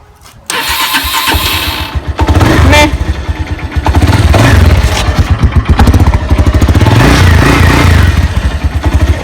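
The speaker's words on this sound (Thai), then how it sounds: "ตอนนี้เราจะทำการสตาร์ทเครื่องแล้วนะครับ" A Honda Phantom TA200 motorcycle engine cranks over and catches after a short quiet lead-in, then settles into a loud, steady idle with brief revs and mechanical clatter close by.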